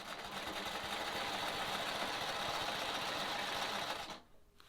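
A sewing machine stitches a quilt block for a sawtooth star, running in a steady, continuous mechanical whir for about four seconds, then stopping abruptly into near quiet.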